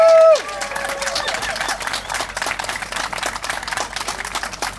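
Audience applause at a library grand opening, a dense, steady wash of many hands clapping that starts just after a brief tone and continues without letup.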